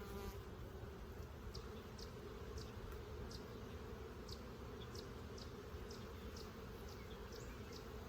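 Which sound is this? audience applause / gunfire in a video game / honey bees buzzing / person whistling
honey bees buzzing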